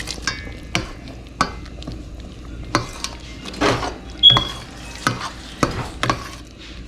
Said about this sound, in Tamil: 2 மினிட்ஸ் நல்லா இன்னும் சாட்டே பண்ணிவிட்டு அப்புறம் இது நல்லா கொதிக்க விட்டுறலாம்